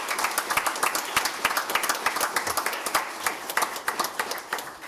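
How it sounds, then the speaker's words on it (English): Applause at a Town of Wappinger first responder awards ceremony, a modest group clapping with distinct, closely spaced individual claps audible, fairly near and steady, fading slightly toward the end. "A round of applause"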